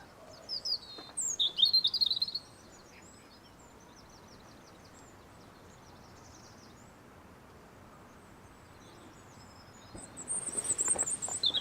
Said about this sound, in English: So you should be able to hear the robin.